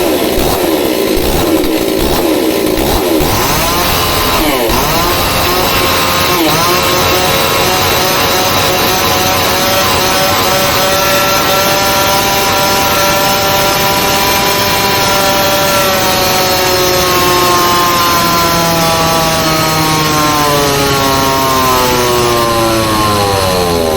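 A detuned Stihl 026 chainsaw running rich roars loudly and steadily as it cuts wood, its engine pitch bogging and climbing under load and then rising toward the end of the cut, with no voices.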